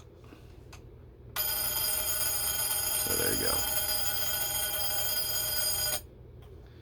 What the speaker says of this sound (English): when I turn the alarm hand and I get close to 6:15, the alarm is going to sound.